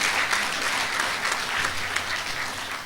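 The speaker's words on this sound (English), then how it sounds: "If you want to clap, please clap." An audience claps through a graduation ceremony, a dense and even roar of many hands that keeps up without any break or talk.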